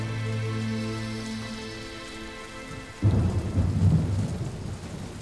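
Thunderstorm with heavy rain, a low rumble of thunder fading under steady rainfall before a louder burst of rain and crackling thunder strikes midway and carries on.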